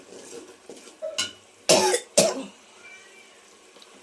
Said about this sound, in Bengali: একটু কাশি হয়েছে বন্ধুরা